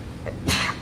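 A single short, sharp sneeze bursts out about halfway through a school board meeting, fairly close and moderately loud.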